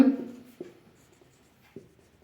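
Writing during a grammar lesson: a few quick, close strokes scratch and tap against a surface, separated by quiet pauses.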